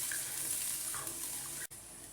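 A little water swished around a used curry container while cooking cuttlefish curry, a steady close sloshing with a brief sharp cutoff near the end.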